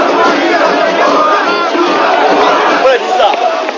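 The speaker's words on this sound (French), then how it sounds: "En bas, la foule est tenue à distance par des barbelés." A large crowd of protesters outside Hôtel Ivoire in Côte d'Ivoire, held back by barbed wire, producing a dense, continuous roar of many shouting voices, loud and steady throughout.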